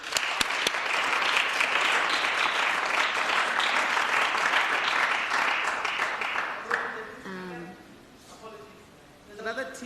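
Audience at a youth sector parliament for blind and visually impaired young people applauds steadily and loudly for about seven seconds, then the clapping thins out as a voice begins speaking over the fading tail.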